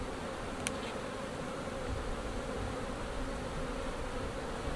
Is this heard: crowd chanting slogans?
no